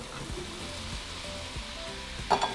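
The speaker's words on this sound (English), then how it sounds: "And we're going to fry them for about 5 minutes." Potatoes fry in a pan with a steady, close sizzle throughout, with a few brief clatters near the end and no talking.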